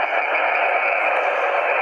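Steady hiss and static of a noisy amateur radio band received on an IC-703 transceiver with an EF-20 end-fed antenna, a loud, continuous broadband rush with no voice, unbroken for the whole stretch.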